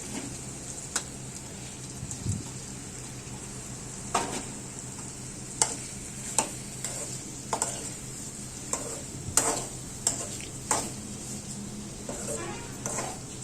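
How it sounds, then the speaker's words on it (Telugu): Tomato pieces are stirred into a frying pan over ginger-garlic paste for a cucumber, tomato and prawn curry, with a soft constant sizzle and sharp spatula scrapes at irregular intervals, close up and fairly quiet. "ఇప్పుడు వీటిలో టమాటా ముక్కలు వేసి బాగా కలుపుకోవాలి"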